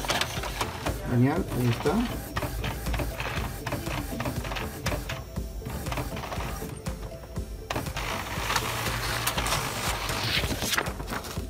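An Epson inkjet printer feeds and prints a sheet of paper, giving a steady mechanical whirring and clicking of the carriage and rollers, with a person speaking briefly over it.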